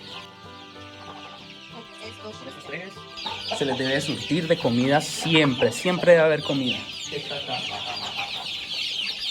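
Chickens cluck and squawk nearby, several birds at once growing louder midway, while a person talks over them.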